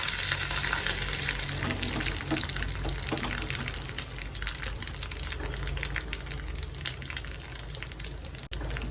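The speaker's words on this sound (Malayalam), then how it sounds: "എണ്ണ നന്നായിട്ട് ചൂടായി കടുക് ഇട്ട് കൊടുക്കാം മുളക് ഇട്ടു കറിവേപ്പില ഇട്ട് കൊടുക്കാം" Mustard seeds, dried chilli and curry leaves crackle and sizzle steadily in hot oil for a chowchow kichadi tempering, a dense close-up spatter with scattered pops and no talking.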